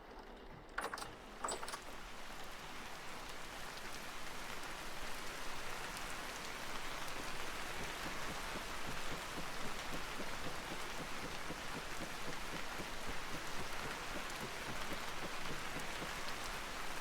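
Steady rain patters on glass in the survival game Vintage Story, a dense continuous hiss of drops with soft reverberant tones, loud and close, with no voices over it.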